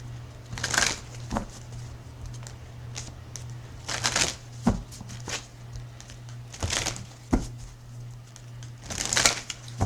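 Tarot cards are shuffled in short riffling bursts, a few separate rounds with quiet gaps between, close by over a low steady hum.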